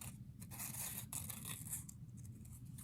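Scissors trim a paper shape for block printing, a steady run of quick snipping and rustling cuts, close and fairly faint against a low background hum.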